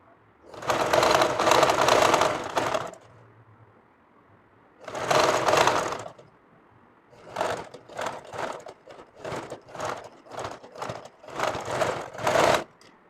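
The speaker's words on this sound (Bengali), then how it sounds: "পুঁতি লাগানো আছে সেলাই আস্তে আস্তে দিতে হবে" A sewing machine stitches the beaded collar design of a kameez in bursts: two longer runs, then a string of short stop-start spurts and a final longer run, close and alone.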